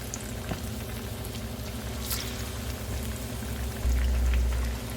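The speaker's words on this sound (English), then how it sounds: "Okay, let them deep fry." Plantains deep frying in hot oil, giving a steady close crackle and sizzle with fine popping bubbles and a low rumbling hiss that swells slightly near the end.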